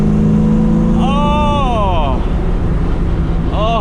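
The VR6 engine in a Volkswagen Rabbit MK1 climbs in pitch as it accelerates through rising sweeps, with a brief dip between pulls. It is loud and close inside the car, and engine drone stays steady underneath.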